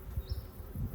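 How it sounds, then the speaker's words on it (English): Honeybees hum steadily around an open hive, a low continuous buzz at moderate level with a faint passing whine on top and no voices. "listen to that hive. It sounds angry, but it's not."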